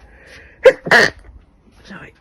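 A single sharp sneeze bursts out indoors, close and loud, during a sorting of a vintage wholesale clothing bundle, followed by a short spoken apology.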